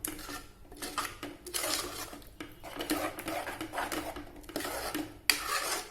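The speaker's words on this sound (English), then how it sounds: "I'm going to mix that fodni into the dal." Dal in a pot being stirred after fodni tempering is mixed in, with the spoon clanking and scraping against the metal sides in steady, repeated strokes, close and moderately loud, with no talk.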